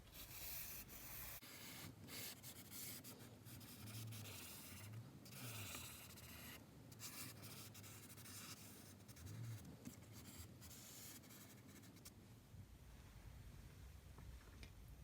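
Charcoal sketching on paper, a close, soft scratchy rubbing and scraping with irregular strokes and brief pauses, continuous and quiet, heard alone without talk.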